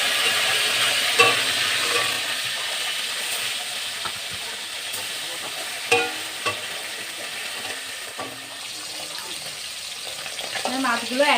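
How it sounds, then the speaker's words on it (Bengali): Foloi fish dusted with salt and turmeric fry in hot oil in a pan, giving a steady close sizzle and hiss with occasional spatters and pops, plus a few utensil scrapes as the pieces are turned. "এই মাছ একটু ফাটে, একটু সাবধানে ভাজতে হবে"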